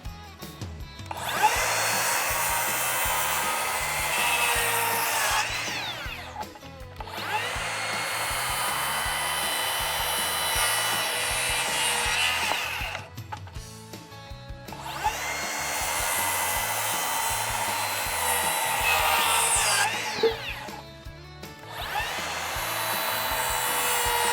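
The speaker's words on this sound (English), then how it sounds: "then we'll cut the lines off with the saw" A power saw cuts a wooden pergola rafter along a scribed line, running in three long, loud, steady bursts separated by brief pauses, close by and without any talking.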